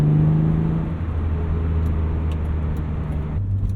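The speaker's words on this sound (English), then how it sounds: "I hope you guys have enjoyed listening to this beautiful S52" A 1999 BMW Z3 M Roadster with its S52 inline-six engine while driving, a loud, steady droning engine note with road rumble that holds constant, then shifts slightly in pitch near the end as the revs change; no talk.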